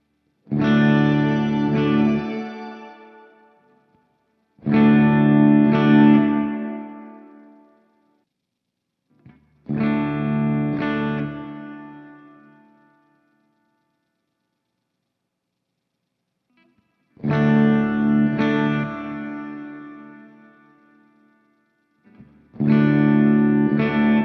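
Guitar chords strummed through a Strymon BlueSky reverb pedal on plate setting ring out, each trailing into a smooth reverb tail, repeated in four or five separate bursts with silences between.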